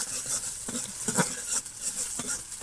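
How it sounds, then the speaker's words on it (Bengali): Onions frying in a pan for a fish and tomato curry, a quiet steady sizzle with occasional stirring scrapes, faint and close, no voices. "পেঁয়াজগুলো একটু ভাজে ভেজে নেব।"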